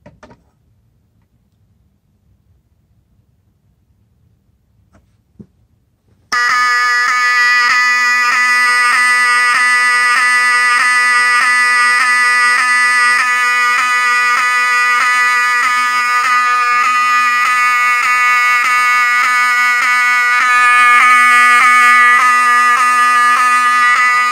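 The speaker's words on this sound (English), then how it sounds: "So now let's go ahead and activate the smoke detector." After several seconds of quiet, a fire alarm set off by a smoke detector during a system test starts and keeps sounding, a harsh, steady electronic tone with a fast pulsing rhythm throughout.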